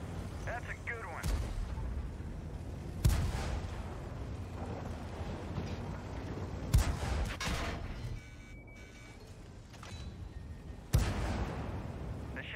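Tank cannon shells firing and striking a target in a tank combat video game, with several sharp, loud booms spaced across the clip over a constant rumbling battle background.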